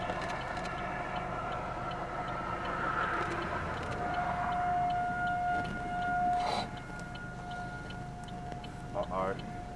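Distant outdoor tornado warning sirens in Topeka, Kansas wail with a sustained rising and falling tone, faint under wind and background noise, with a few brief clicks.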